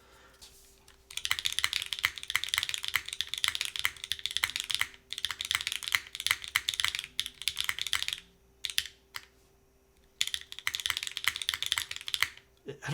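Rapid typing on an Agar mechanical keyboard mounted in a PC case, with dense bursts of clacky keystrokes broken by brief pauses, close and clear over a faint steady hum.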